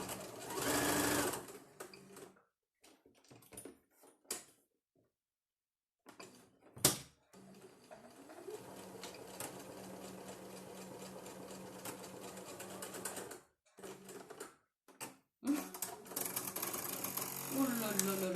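A domestic sewing machine acting up while stitching a mid-season snood: stop-start bursts of mechanical whirring and clatter separated by silences, then a longer steady run, heard close and fairly loud.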